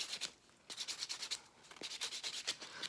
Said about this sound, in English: I'm just buffing through here, making sure I get all of my old, the nails off.